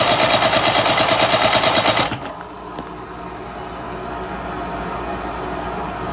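A 1990s 30 hp Evinrude outboard cranks over for a compression check, a rapid rhythmic chugging of starter and pistons, loud and close, that cuts off abruptly after about two seconds and leaves quiet background.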